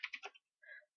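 A computer keyboard clicks through a quick run of four faint keystrokes, then one brief softer press after a short pause, close and alone.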